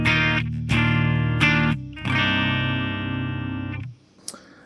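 An electric guitar plays a clean tone through a Figure 8 FX Osmium Orb pedal: a few ringing chords, then one long sustained chord that fades out, followed by a light string noise.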